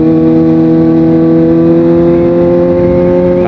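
Kawasaki ZX25R motorcycle engine holding a steady, loud high-pitched drone with strong harmonic whine, close and continuous with no talk.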